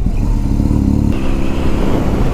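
A BMW R1200S boxer-engine sport bike accelerating hard, its loud, close engine note rising steadily with a gear change partway through and continuing to climb, with no talking.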